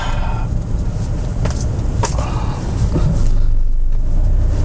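An old car's engine idles steadily after starting at a highway rest stop, a close, rough low rumble that swells slightly toward the end, with a few faint clicks and knocks.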